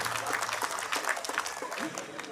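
Audience at a residents' association cultural gathering bursts into steady, dense clapping, mixed with crowd murmur and faint voices throughout.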